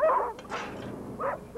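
Sled dogs from a racing pack bark in short, sharp bursts, three or four yips and barks spaced over a second and a half, close and fairly loud.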